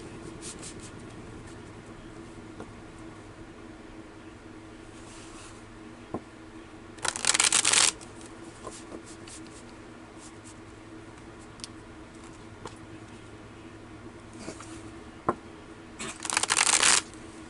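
Tarot cards are shuffled in two brief riffling bursts separated by a long quiet stretch of faint ticks and small handling sounds, close and moderately loud, with nobody speaking.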